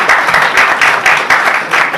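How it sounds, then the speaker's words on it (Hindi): A live audience at a Hindi poetry recital for poet Sohan Rahi bursts into loud, rhythmic applause, the claps pulsing in regular waves close to the microphone. "जरा जोरदार ताली हो जाए।"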